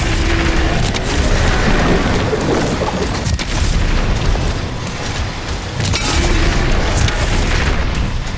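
Shotgun blasts in Doom: The Dark Ages come as heavy booming bursts within a dense, loud wall of game noise, with no speech over them.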